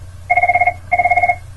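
A landline telephone rings with an incoming call in two clear electronic bursts of rapid trilling, close and loud over a low steady hum.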